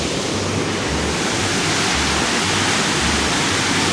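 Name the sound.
water rushing at Leevaku dam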